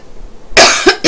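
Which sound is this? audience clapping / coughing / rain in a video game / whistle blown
coughing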